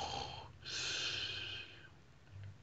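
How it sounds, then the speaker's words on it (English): A soft snore with a breathy, snorting inhale, faint and close, followed by a quieter exhale, performed as part of a narrated bedtime story. "she heard a soft snoring sound"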